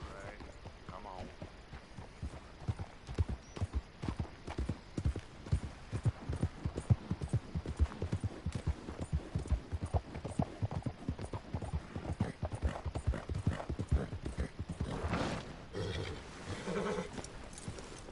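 Horse hooves clip-clopping in the video game Red Dead Redemption 2, a steady, dense run of hoofbeats throughout over a low background hum, with voices talking.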